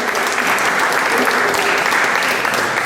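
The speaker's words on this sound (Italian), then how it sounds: "L'applauso dovuto." Audience applause at an award ceremony in Italy, dense and steady, filling the whole stretch at full strength without a break.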